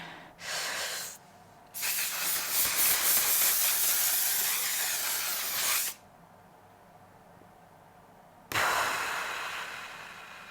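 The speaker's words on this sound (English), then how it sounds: "now that we've applied that setting spray" Several bursts of makeup setting spray hiss close by: a short one, a long sustained spray of about four seconds, then another burst near the end.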